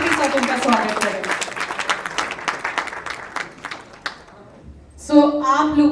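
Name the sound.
audience applause welcoming performers on stage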